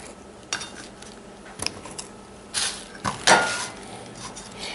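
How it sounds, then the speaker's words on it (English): A knife chops peeled potatoes for vegetable samosas directly on a plate, giving a handful of irregular, fairly quiet taps and sharp ceramic clinks. "I'm just chopping them up on the plate I'm going to use to cover the bowl with."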